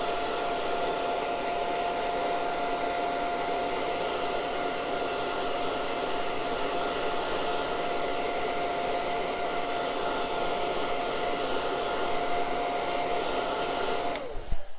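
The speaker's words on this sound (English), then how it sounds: "I have my blow dryer here" A blow dryer runs continuously to dry ink on paper, a steady close whooshing roar with a faint whine that cuts off abruptly at the very end.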